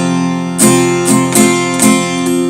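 Acoustic guitar strummed in a steady up-and-down pattern for a worship song, with four bright strum accents over sustained ringing chords, close and alone.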